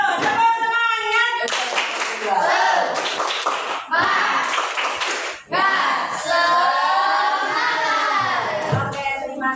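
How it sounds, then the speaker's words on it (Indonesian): A school class performs a rhythmic spirit clapping chant, children's voices shouting and singing along with bursts of patterned clapping, loud and close. "kita tepuk semangat dulu. Tepuk semangat."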